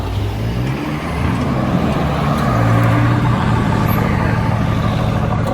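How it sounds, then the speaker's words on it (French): Aston Martin DB11 V12 pulling away on a street in Monaco, a loud, deep engine roar that swells steadily and holds, with surrounding traffic noise. "Elle fait un bruit. Je pense que c'est le V12 celle-ci."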